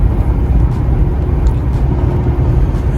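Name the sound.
Ford Fusion car on first test drive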